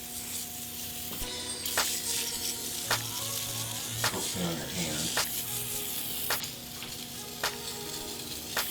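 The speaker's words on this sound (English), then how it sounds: "I'm just going to hit it with a little bit of oven cleaner and let it set for a while." Oven cleaner is sprayed from a can onto dirty engine parts during an engine rebuild, a series of short close hissing bursts with clicks, mixed with a humming background and some voices.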